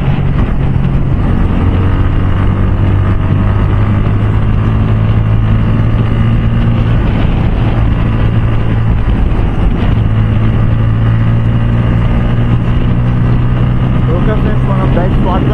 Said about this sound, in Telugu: గాలి బాగా వస్తుంది ఫ్రెండ్స్